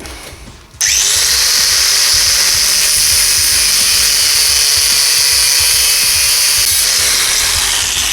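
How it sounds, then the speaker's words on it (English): An angle grinder cuts through a motorcycle headstock bearing on a Suzuki RF 900, a loud sustained high whine that starts abruptly after a short quiet moment and holds steady for several seconds. "Just remember, be careful with your angle grinder because you don't want to cut this or that."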